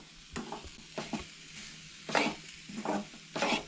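Onion lightly roasting in a pan for a Goan black-eyed bean curry, with intermittent scraping stirs and soft sizzling bursts at close range, about five strokes over a few seconds with quiet pauses between.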